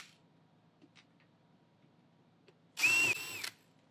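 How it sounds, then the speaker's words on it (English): Phillips head screws being backed out of the vacuum motor cover on an Advance Aquaclean 18 FLX carpet extractor, heard as a single short, loud whirring burst from a power driver after near silence. "We're going to remove the 8 Phillips head screws that are holding the vac cover and gasket"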